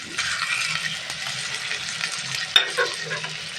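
Chopped onion and meat fry in a pan with a steady, close sizzle and occasional scraping as the pieces are stirred, with no talking.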